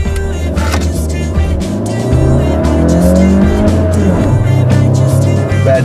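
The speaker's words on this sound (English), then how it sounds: "This thing revs higher than a lot of its competitors." A 2015 Honda Fit accelerating from inside the cabin, the engine note climbing steadily in pitch, briefly dropping at a gear change and then revving up again, loud and close with road noise beneath.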